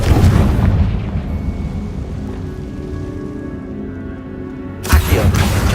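The fire-based Confrigo spell explodes in the Hogwarts Legacy video game: a loud, heavy boom rolls into a long rumbling decay, then a second sharp blast bursts in near the end.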